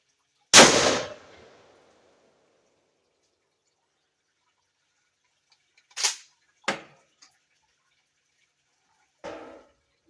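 A factory shotgun test fired at a tape target for a turkey shoot: one sharp, loud blast with a quick decaying tail, followed seconds later by a few fainter short clicks and knocks in near silence.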